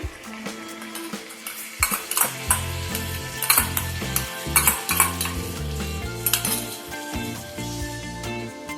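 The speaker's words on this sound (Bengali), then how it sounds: "গ্যাসের ফ্লেমটা লোতে রেখেই টক দইটা চিকেনের সাথে একবার মিশিয়ে নেব।" Whipped sour yogurt is stirred into chicken in a pan over a low flame, with repeated close spoon scrapes and metallic clinks against the pan under a steady soft sizzle, no talking.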